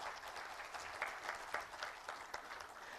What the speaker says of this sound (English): I think he really deserves a wonderful round of applause for that.